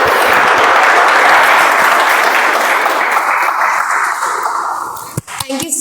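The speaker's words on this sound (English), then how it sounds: "with a huge round of applause" An audience at a Toastmasters club meeting breaks into loud, dense applause that holds steady for several seconds, then thins and fades out, with a voice starting up as it ends.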